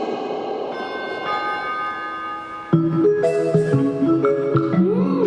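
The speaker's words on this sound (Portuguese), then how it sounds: "Tem alguém tocando a campainha" A bright multi-tone bell chime rings out midway, replacing a sustained droning tone; close and clear, with the tones overlapping and fading.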